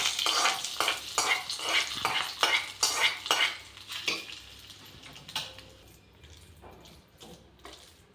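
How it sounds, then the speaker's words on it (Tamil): A spoon stirs a fried tempering of urad dal, cumin and curry leaves into idli-style breakfast batter, scraping and knocking against the bowl in quick repeated strokes with a faint sizzle, slowing and growing quieter toward the end. "தாளிப்பு இதில் போட்டு நல்லா மிக்ஸ் பண்ணிவிட்டு"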